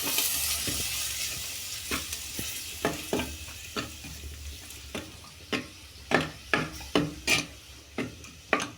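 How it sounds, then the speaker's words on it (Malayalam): Chutney paste sizzling in a pan of fried mustard seeds, onion and curry leaves, a soft crackle punctuated by a regular series of scraping strokes that grow louder toward the end. "കടുക് വറുത്തത് മൂത്ത് ചമ്മന്തിക്കുള്ള അരപ്പിടുകയാണ്"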